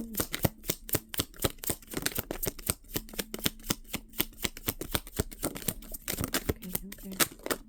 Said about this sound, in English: I shuffle through the deck once with nothing